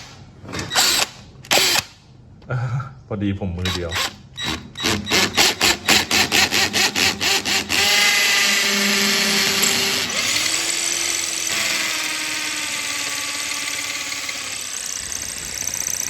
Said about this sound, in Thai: พอเรามาร์กสี่จุด ซ้ายขวาเป็นที่เรียบร้อย เราก็เจาะได้เลยครับ